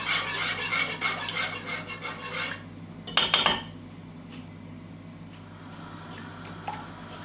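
Semolina and cornflour being whisked together in a pot for semolina kheer, with a quick run of close metal scraping and clinking that bursts louder midway, then dies down to a soft background hiss.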